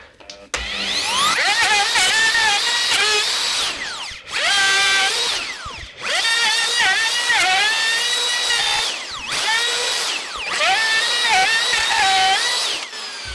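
A router cuts a pocket in wood along a template, whining loudly in repeated passes of a few seconds each, separated by brief pauses and pitch drops.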